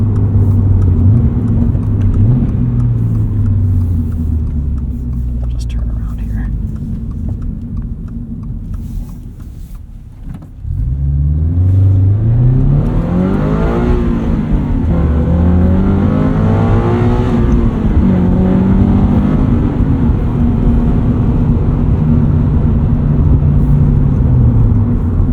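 A 2014 Subaru BRZ engine drones steadily while driving, with clear rising and falling pitch sweeps as it accelerates through gears and revs, loud and close throughout with a brief dip near the middle.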